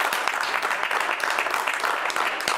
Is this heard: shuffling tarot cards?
no